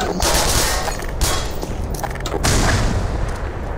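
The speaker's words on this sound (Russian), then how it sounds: "Граната!" A grenade explodes during a firefight in the shooter game Black Mesa, with heavy booming blasts and crackling gunfire mixed into a dense, loud barrage.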